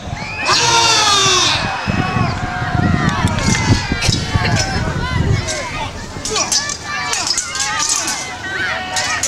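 A crowd of runners and spectators in Scotland cheers and shouts at the start of a race, loud and close, with excited screams, a babble of voices, and people talking throughout.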